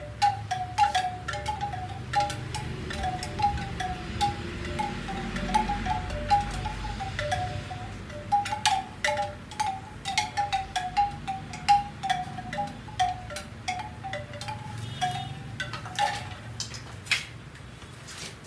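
Medium-size bamboo tube wind chime ringing, repeated hollow wooden clacks and tones in irregular clusters, moderately close, over soft wind noise.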